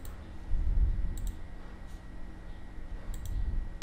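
A computer mouse double-clicks a zip file to extract it: two quick, sharp, close double clicks, one near the start and one near the end, over a quiet background hum.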